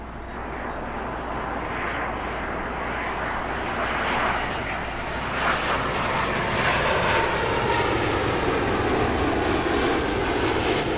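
American Airlines Boeing 777-200ER landing on runway 09L at London Heathrow, a steady, fairly distant jet engine roar that swells and rushes gradually across the whole stretch with no talk.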